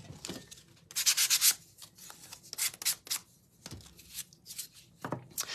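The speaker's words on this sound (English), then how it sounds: "I did just a really light sanding" Light hand sanding, with soft, quiet scratchy strokes in short bursts, some a little stronger, close by.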